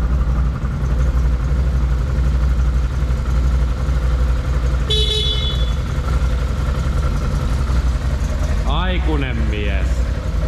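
A single short horn beep from an ATV sounds briefly in a workshop during its first service, over a steady engine-like hum, with a voice speaking near the end.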